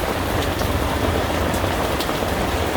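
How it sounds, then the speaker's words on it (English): Heavy storm rain drums on a tent tarp, a dense, loud, unbroken patter close overhead with a low rumbling undertone. "Now you can probably hear that storm raging outside."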